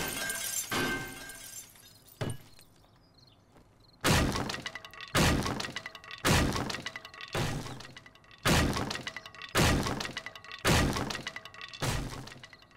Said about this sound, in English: I'm going to take the trouble to bash the door in and find out what they were trying to hide